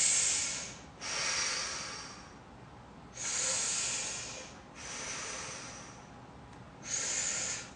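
Slow, deep breathing during a vestibular balance exercise: long airy inhales and exhales in four or five separate breaths with short quiet gaps, close and moderately soft, no talk.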